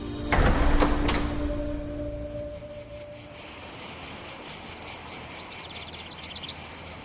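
Cicadas in the summer heat around Livorno shrill in a steady, pulsing buzz that fills the background, while a loud sharp knock and a brief tone sound at the start.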